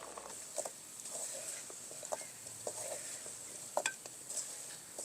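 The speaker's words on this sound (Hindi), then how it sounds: "साथ साथ चम्मच जो है इसको हिलाते रहेंगे।" Sugar syrup for sweet tangri cooking down on high flame, a soft bubbling sizzle under repeated scraping and tapping of a spoon stirring the pan, fairly quiet with irregular clinks.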